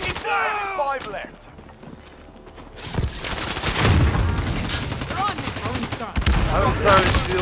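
Video game gunfire: bursts of rapid shots and booms crowd a loud battle mix from about three seconds on, with a voice talking over the action.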